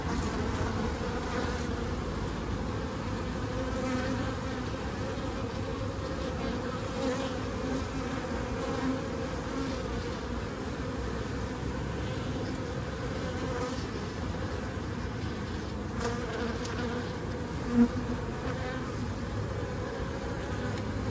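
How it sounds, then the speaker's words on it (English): A colony of honey bees in an open hive during a swarm-prevention inspection, giving a steady, dense buzzing drone that holds close and even throughout with no talk. "the population, you can tell, is still boiling with bees"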